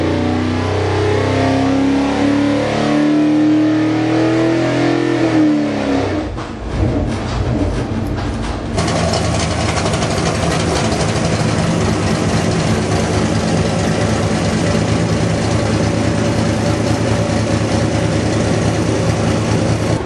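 A Ford 351 Cleveland V8 on a test run, revving hard to high RPM. The loud, sustained engine roar shifts in pitch partway through and then holds at a steady high-speed drone.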